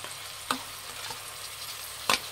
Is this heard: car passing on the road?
no